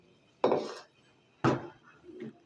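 A metal spoon knocks and scrapes against a pan of red murabba for a lab-e-shireen dessert, three distinct clinks spaced about a second apart, close and fairly loud with no talk.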